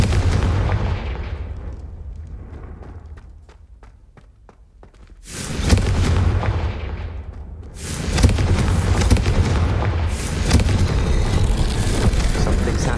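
A Confringo fire spell explodes in Hogwarts Legacy, a loud booming burst at about five and a half seconds followed by further rumbling blasts and crackling fire, with quieter footsteps and ambience beforehand.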